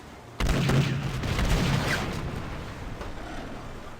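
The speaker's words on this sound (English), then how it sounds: "And now we're going to fire on the ship." A sudden burst of ship cannon fire in the video game Pirates of the Burning Sea, a rumbling volley of booms that rolls on and then fades into a low lingering rumble.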